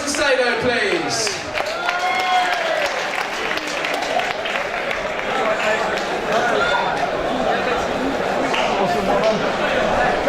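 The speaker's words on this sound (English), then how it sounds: "Big round of applause for Alex Macedo" An MMA event crowd applauds for fighter Alex Macedo, sustained clapping and cheering filling the hall throughout while an announcer's voice carries over the noise.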